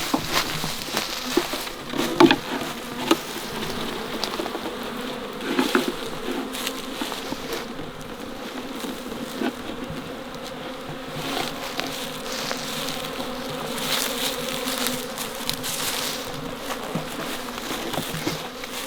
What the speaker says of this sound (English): There's a bunch of bees right up here at the door.